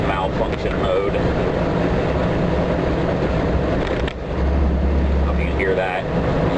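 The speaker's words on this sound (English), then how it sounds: "When you start to tip in the throttle, it makes this funny noise." An International truck engine in malfunction mode runs loud and rough with a droning, uneven tone while driving, and someone talks over it.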